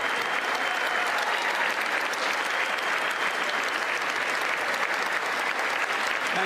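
Steady, dense applause from a large crowd at the State of the Union address, unbroken clapping at even loudness throughout with no voices over it.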